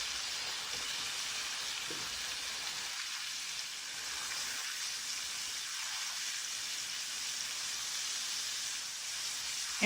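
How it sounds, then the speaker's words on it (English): Steak, cooked medium well after about six minutes, fries in a pan with a steady, even hiss and sizzle that holds at moderate loudness for ten seconds, close up and with no talking. "I've been frying the steak so far for a total of about 6 minutes"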